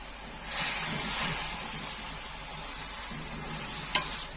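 Green beans go into a pan of frying potatoes with a rush of sizzle, followed by steady hissing and stirring scrapes, ending with a sharp clink of the spoon.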